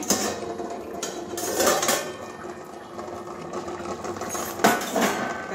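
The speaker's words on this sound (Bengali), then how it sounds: "বন্ধুরা, এবারে ঢাকনা খুলে নিচ্ছি।" A metal lid comes off a cooking pot of egg and carrot curry, with close clanks and scraping clatter of cookware repeating over a few seconds, no talking.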